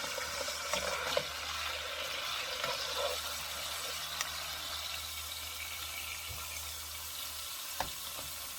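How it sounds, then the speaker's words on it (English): Seared beef shank is sautéed in a pan for a Filipino mechado stew. A soft, continuous sizzle runs under light stirring and occasional utensil clinks, all fairly quiet and close. "And proceed with our sauteing."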